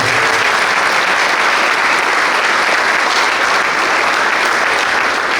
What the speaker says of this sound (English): Give Sarah Lyman a round of applause.